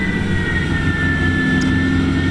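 Classic first-generation Ford Mustang V8 running hard on a chassis dyno outdoors in Monroe, Michigan, a steady, loud, sustained engine drone with no break in the roar.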